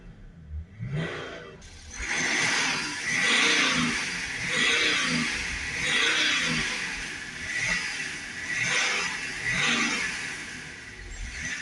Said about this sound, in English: Okay, so we start the vehicle up. Give it some revs.